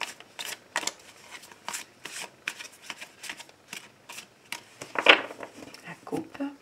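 Tarot cards are shuffled in repeated quick riffling bursts, soft and close, with a voice speaking quietly over the shuffling.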